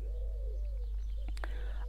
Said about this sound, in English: Can you hear all these birds? There's so many. It's like just a bird fest.